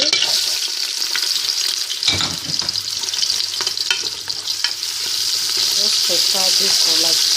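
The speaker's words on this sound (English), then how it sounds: "Fry this for like 2 minutes or 2 to 3 minutes." Onion fries in hot oil for jollof rice, a loud, close, continuous sizzle with bursts of stirring and spoon scraping, and no voices.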